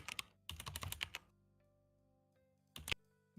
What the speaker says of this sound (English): I can hear you typing there